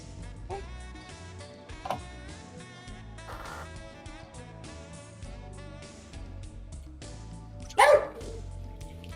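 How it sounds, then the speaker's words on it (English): A pet dog barks a few times in the background indoors, brief sharp barks that are moderately loud and mixed with a steady music-like bed, with no talking. "My dog's barking."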